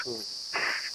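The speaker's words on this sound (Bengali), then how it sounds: "ঝিঝি পোকার ডাকটা এখানে প্রচুর।" Crickets chirping in a village near a forest, a loud, continuous high trill that persists throughout, with a brief voice-like sound mixed in.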